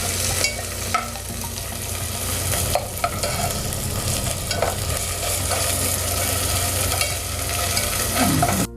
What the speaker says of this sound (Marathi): त्यानंतर तुम्ही ते टाकायचे आहे आणि नंतर त्यामध्ये थोडीशी कोथिंबीर आणि तेलात पुन्हा एकदा व्यवस्थित परतून घ्यायचं.